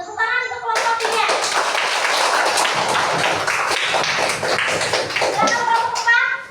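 Classroom applause for a presenting student group bursts out after a brief spoken line, as a dense, steady clatter of many hands clapping close by for several seconds before fading back into voices.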